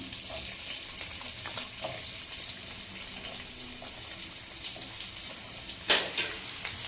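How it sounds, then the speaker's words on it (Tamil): Chopped onions frying in hot oil for a capsicum and mushroom thokku, a soft, steady sizzle with occasional stirring clatter and a sharper scrape near the end. "ஸோ ஹீட் ஆனதுக்கப்புறம் வந்து பார்த்தீங்கன்னா கட் பண்ணி வச்சுருக்கிற ஆனியனை சேர்த்துக்கலாம்."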